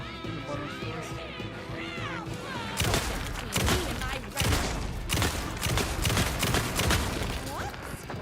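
Gunfire in the video game Alan Wake 2 cracks out as a series of loud, sharp shots in the second half, following a stretch of game music and voice-like tones.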